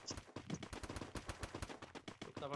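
Rapid bursts of gunfire in the video game Free Fire crack in quick succession, a steady stream of sharp shots close up with no pauses.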